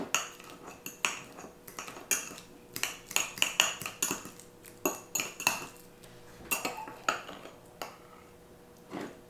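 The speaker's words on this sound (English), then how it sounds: "So I just mashed it up in here. I just put it in this little bowl. Give it a little mash." A fork mashing avocado in a small bowl, producing repeated bright clinks and scrapes of metal on the dish in an irregular quick rhythm, fairly close and moderately quiet.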